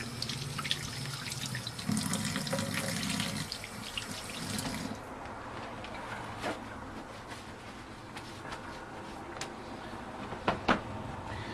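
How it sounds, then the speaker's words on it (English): A kitchen tap runs water for hand washing, a steady rushing stream for about five seconds, then quieter dripping and splashing with a couple of sharper knocks near the end; no talking. "Wash my hands again."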